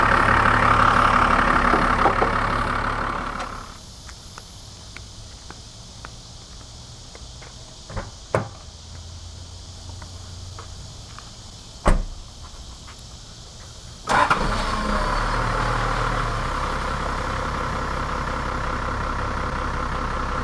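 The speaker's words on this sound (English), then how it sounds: "We got a 4-liter inline 6-cylinder diesel." A Toyota Land Cruiser HJ61V with a 4.0L inline-six turbo diesel rumbles at a steady idle, loud at first, then muffled with a few thumps and clunks, before the loud engine sound returns.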